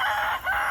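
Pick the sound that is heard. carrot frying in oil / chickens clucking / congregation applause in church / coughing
chickens clucking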